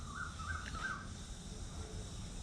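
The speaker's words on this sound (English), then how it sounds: "There's a lot of big flamingo style birds around here." Large flamingo-like wading birds call faintly from a distance, a few brief raspy cries over a low, steady background rumble.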